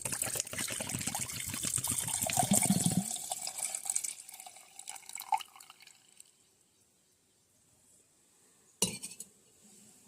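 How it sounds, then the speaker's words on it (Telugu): Coconut water pours from a freshly holed tender coconut into a vessel, a close splashing trickle for a few seconds that then thins out, with a sharp clink near the end. "ఇప్పుడు మనమైతే కొబ్బరి నీళ్ళు తీసేసుకుందాం."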